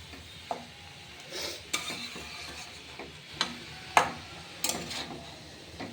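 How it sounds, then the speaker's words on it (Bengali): Cabbage tipped into fried spices in a pan and stirred, with scattered clinks and scrapes of a utensil against the pan over a soft sizzle, irregular and close, without talk. "এবার আমরা মশলার মধ্যে বাঁধাকপিটা দিয়ে দেবো।"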